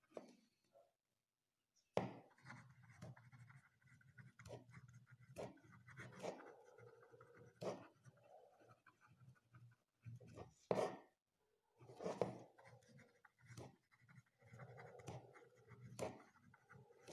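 Handwriting with a pen on paper while composing an essay introduction, giving soft scratchy strokes and taps in an irregular rhythm, quiet and close with no talk.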